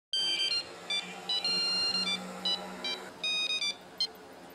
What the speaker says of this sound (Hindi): किसे, उसी को फोन लगा रहे हो?